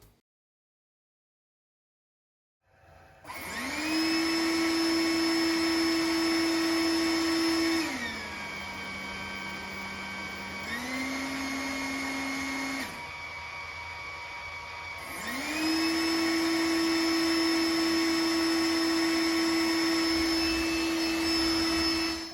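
A Trifo Lucy robot vacuum cleaner in manual mode starts after a short silence and hums with a steady whine, stepping down to a lower setting, dropping again, then rising back to its loud top level, alone and close.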